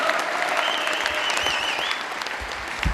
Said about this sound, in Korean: 다시 한 번 더 큰 박수로서 환영합니다